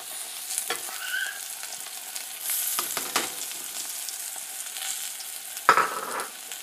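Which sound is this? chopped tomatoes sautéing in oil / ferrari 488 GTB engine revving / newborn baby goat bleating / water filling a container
chopped tomatoes sautéing in oil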